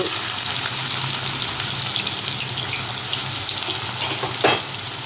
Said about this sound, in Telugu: పన్నీరు వేయించుకున్న అదే ఆయిల్లోకి జీలకర్ర, ఉల్లిపాయలు,